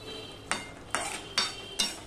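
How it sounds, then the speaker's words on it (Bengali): Four evenly spaced scrapes of a spoon against a pan as spiny gourd curry is stirred with garam masala, quiet and close with a faint sizzle between strokes. "দেখো গরম মশলা দিয়ে আমি সম্পূর্ণটা আমি মিশিয়ে নিলাম।"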